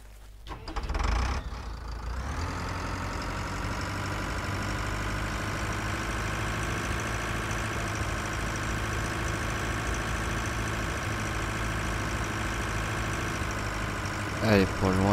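A tractor engine in a PS4 farming simulation game starts up and then runs at a steady, droning idle throughout, loud and close, with a brief clunk at the start and a short rattle near the end.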